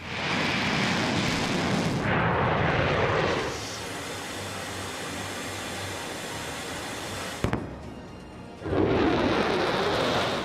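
A US Air Force bomber roars overhead with a broad, heavy jet rush that swells, dips to a steady drone, then surges loud again, with no talking.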